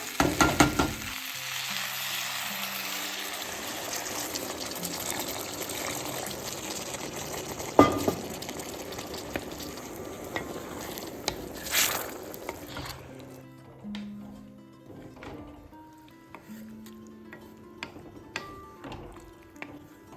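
Gethi, a mountain tuber vegetable, fries in a pan as a pahadi sabzi, with a loud steady sizzle for the first dozen seconds that then drops away, leaving sparse clicks and scraping stirs.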